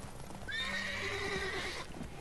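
A horse in The Witcher 3: Wild Hunt gives one loud, close whinny lasting over a second, a rising then wavering neigh standing alone with no talk over it.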